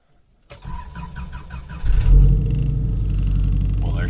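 A 1993 Subaru Legacy wagon with no exhaust system cranks for about a second and a half, then catches and settles into a loud, rough, rumbling idle, close by.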